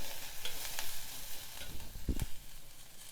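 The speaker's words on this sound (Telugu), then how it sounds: "ఇదంతా చక్కగా కలుపుకోవాలి." Coriander stems being stirred into amla dal in a pot, with a soft sizzle under a few brief scraping knocks of the spoon near the end.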